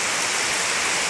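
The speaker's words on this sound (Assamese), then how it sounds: "জোৰকৈ বৰষুণ পৰি আছে।" Heavy rain pouring at a Shiv temple in Lakhipur, a steady dense hiss with no breaks across the short moment, close and loud with no voices.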